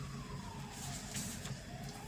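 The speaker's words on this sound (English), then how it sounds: "I acknowledge the sirens." Emergency vehicle sirens wail faintly outside, a distant, rising tone that holds steady beneath a low background rumble.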